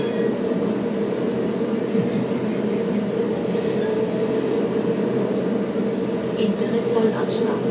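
A tram runs on the Munich route in a tram simulator game, making a steady, continuous rolling rumble with faint rail clatter. A voice talks over the running noise.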